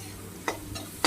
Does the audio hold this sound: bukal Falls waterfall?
no